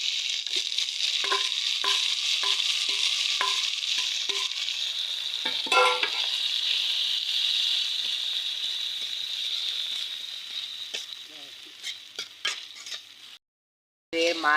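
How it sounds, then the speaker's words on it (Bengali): Fish sizzles in a pan as a spatula clicks and scrapes in a steady rhythm. The frying noise fades toward the end, drops to brief silence, then returns. "ভাজা শেষ, এখন আমরা মাছ দিয়ে দিব।"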